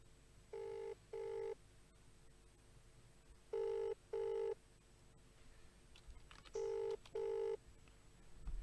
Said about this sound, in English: So we're going to try and get Damien on the phone.